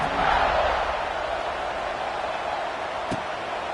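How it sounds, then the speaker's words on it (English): Stadium crowd noise in a college football video game at Ole Miss fills the background as a steady, distant roar that swells briefly at the start, with a sharp click near the end. "this crowd is feeling themselves after that last drive"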